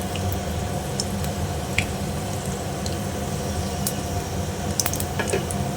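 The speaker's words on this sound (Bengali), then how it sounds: "এবারে আমি তেলটা গরম হয়ে এসছে, এবার ফোড়নটা দিয়ে দিচ্ছি।" Five-spice and dried chilli hit hot oil and give a continuous soft sizzle and crackle, close by, with scattered small pops and drips over the steady frying hiss.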